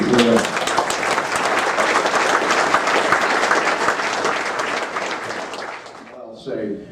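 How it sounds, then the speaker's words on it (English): Dinner guests at an aircraft builders' event applaud a father and son in a steady, dense round of clapping that fades near the end, where a voice begins speaking. "round of applause for these two."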